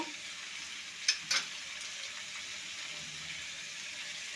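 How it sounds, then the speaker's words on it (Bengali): Pieces of papaya, pointed gourd and pumpkin fry softly in a pan with ginger paste, a faint steady sizzle broken by two sharp clinks of a spoon against the pan, no talking. "হলুদের গুঁড়ো সবজিটা আমি ভালো করে ভেজে নেব"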